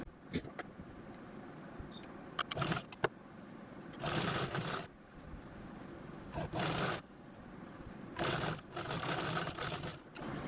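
A sewing machine stitches a double-folded apron edge made from a cut-up shirt, running in several short bursts of steady whirring separated by pauses with small clicks and handling sounds, heard close and without talk.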